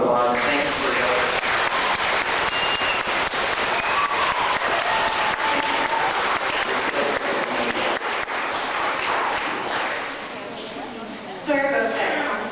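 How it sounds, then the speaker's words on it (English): An audience gives a sustained round of applause to Kristopher at a community wish gathering in Sturgeon Falls, Ontario. The dense clapping stays steady and loud for the whole stretch, with a few voices mixed in. "I'd like to give Kristopher another big round of applause"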